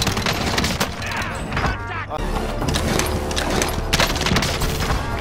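Rapid gunfire from a video game shooter, dense bursts of shots and booms crackling continuously under excited voices of players talking over the action.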